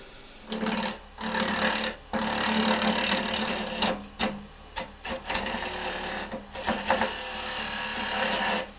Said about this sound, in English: with the lathe turning. Turn it up to about 1200 RPMs.